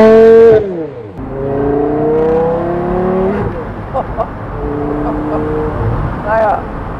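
A 2006 Porsche Carrera GT accelerates hard, its engine note climbing through the gears in long rising sweeps with brief dips at the shifts, loud and close, with some speech mixed in.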